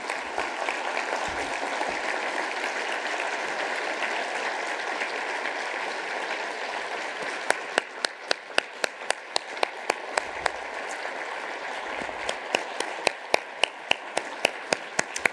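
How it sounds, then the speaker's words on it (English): A big round of audience applause fills a large conference hall at an opening plenary, a steady wash of many clapping hands that thins later into scattered louder individual claps up close. "Thank you for joining me in giving that big round of applause."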